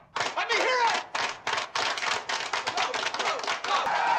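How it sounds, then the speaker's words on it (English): A slow clap from the basketball film Hoosiers: separate, sharp handclaps in a steady rhythm that gradually come closer together, with a voice briefly heard over them. "The slow clap."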